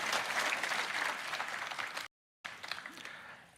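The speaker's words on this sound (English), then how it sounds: "I want to give them a round of applause" A crowd applauds steadily with dense clapping at an awards ceremony in the game Roblox, briefly cuts to silence, then the applause resumes.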